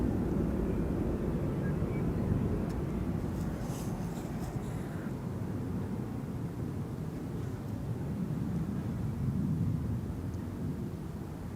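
EasyJet airliner taking off from runway 36L at Amsterdam Schiphol, a low, steady engine rumble at moderate distance, continuous and fairly even.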